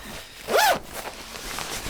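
Zipper on a pink bag's pocket pulled open in one quick rising zip, close and clear, followed by faint rustling of hands searching inside.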